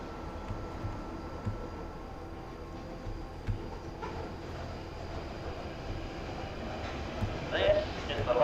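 Interior rumble of a London Overground train in the Fallout: London video game, a steady low carriage drone with faint clanks and a brief bright chime near the end.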